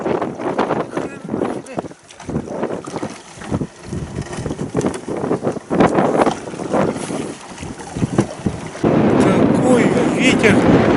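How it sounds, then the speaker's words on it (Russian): Strong wind blows over a lake around a small Udora lake boat, a loud gusting roar with buffeting on the microphone, while a voice talks over it. "Какой ветер гонит!"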